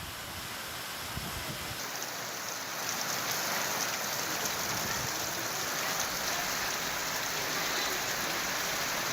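Sudden steady rain falls on harvested soybean and pigeon pea crops lying in fields in Washim, Maharashtra, a dense, even hiss that swells slightly after the first couple of seconds and continues without a break.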